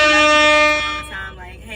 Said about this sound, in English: I done put the air horn right on top of her